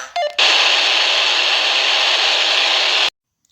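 Loud steady hiss of open static from a Baofeng handheld radio with squelch turned down to 0, bursting on after a short chirp and cutting off abruptly after about three seconds.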